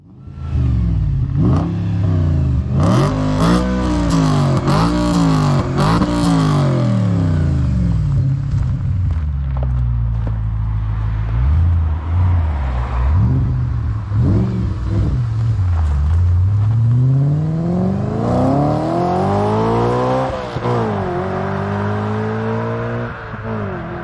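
An Audi RS4 B7 Stage 2 engine revs repeatedly, rising and falling in pitch as it accelerates and shifts, loud and close throughout the drive.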